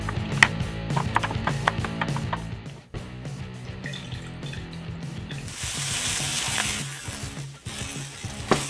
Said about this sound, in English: we're gonna put 2 tablespoons of oil, and we're gonna fry them until they get just a bit color